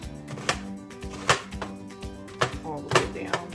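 Knife chopping an onion on a cutting board, following the lines down and then across, with sharp, irregular chops sounding close and loud, spaced unevenly among quieter kitchen noise.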